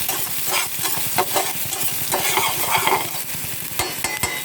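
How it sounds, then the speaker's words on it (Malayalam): Okra being stirred and mixed in a hot pan, with a close, busy crackle of frying and rapid rhythmic scraping strokes of a utensil against the pan, continuous throughout with no voices. "ഇതെല്ലാം കൂടി ഇട്ടിട്ട് നന്നായിട്ട് നമ്മളൊന്ന് ഇളക്കി മിക്സാക്കി കൊടുക്കാം"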